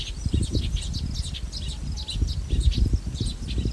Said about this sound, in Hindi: परिंदों की आवाज़।